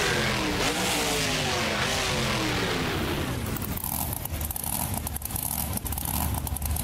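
Ford Liquidator monster truck in BeamNG Drive, its engine roaring loudly and revving through sweeping pitch rises, then settling into a rough, crackling idle with sharp popping bursts.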